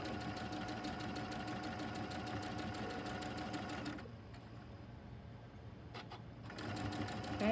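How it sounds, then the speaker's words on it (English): A sewing machine stitches quilt block pieces together for a sunflower quilt block, running steadily and close, pausing briefly midway, then starting up again. "I'm gonna hold those together. Make sure my raw edges are together. And I'm gonna keep sewing."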